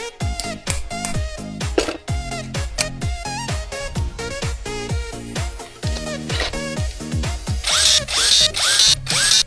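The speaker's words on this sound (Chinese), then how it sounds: "螺丝打紧啊" Cordless power tool driving screws tight during a lithium angle grinder repair: repeated rising whirs as the motor spins up, with quick clicking bursts between them, loud and close, and harsher grinding toward the end.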